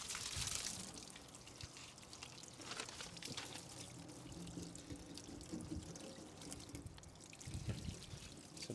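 Water running steadily over new window glass during a post-construction clean to dissolve concrete specks, a continuous pouring and trickling wash heard up close with no talk.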